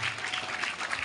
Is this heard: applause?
yes